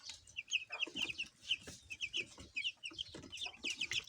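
Newly hatched chicks peep continuously under a heat lamp, a dense chorus of high, chirping calls from several birds close by, with some soft lower clucking sounds mixed in.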